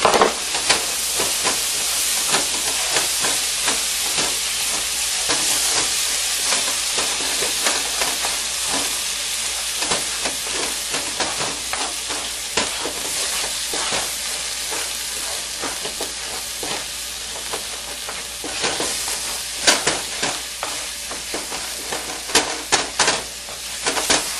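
Tomato purée mixture heats in a pan with a continuous sizzling hiss and repeated scraping of a spoon through it, close and steady, with a few sharper clatters toward the end.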